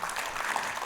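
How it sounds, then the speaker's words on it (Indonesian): A church congregation bursts into a short, dense round of clapping, loud and continuous for under a second. "Berikan tepuk tangan buat Anda semua."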